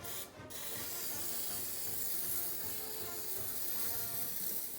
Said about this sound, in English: grease your cake pan